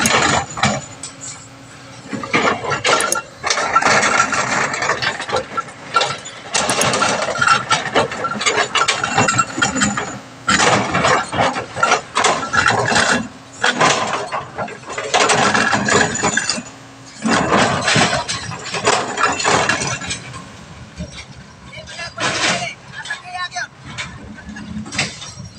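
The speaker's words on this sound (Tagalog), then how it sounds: "ginamitan na digger" A Kobelco excavator digs through hard rock while opening a road, its engine rumbling and straining under clanking, scraping bursts, close and loud, with someone talking over the machine throughout.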